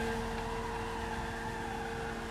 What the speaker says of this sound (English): And we just drive it back into our MOC.